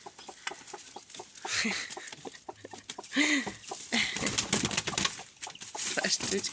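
A hen clucks in a farmyard with other chickens nearby. Short, close clucks come in loose bursts, and someone talks over them.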